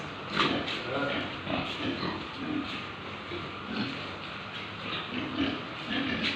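Weaned piglets in a cage grunt and oink in short, repeated bursts. The sounds carry over a dense, noisy background, with someone talking throughout.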